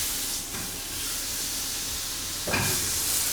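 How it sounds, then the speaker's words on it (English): Mushrooms frying in butter give a steady, hissing sizzle that swells into a louder, brighter burst about two and a half seconds in, with no talking. "I'm going to fry off all the mushrooms"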